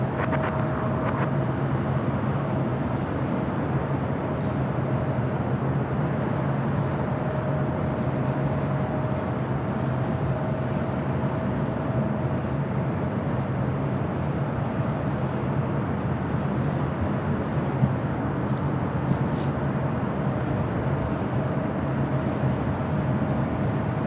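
A steady, broad roar of a jet airliner landing on runway 24 right at LAX, airport ambience running unbroken and even for about twenty-four seconds, mid-distance and moderately loud with a faint hum.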